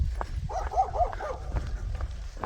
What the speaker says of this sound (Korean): 집 앞에 묶어놓은 개들이 되게 왕왕 짖습니다